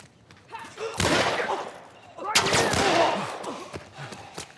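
Gunshots in The Last of Us, two loud close blasts each trailing into a longer rumbling decay, with a voice talking faintly underneath.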